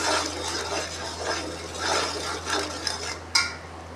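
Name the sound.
mixing salt and chili spices in a bowl for beef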